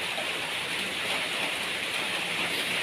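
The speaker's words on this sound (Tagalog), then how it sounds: "malakas ang ulan" Heavy rain pours steadily outside a house, a dense, even hiss of water on surfaces filling the whole stretch without a break.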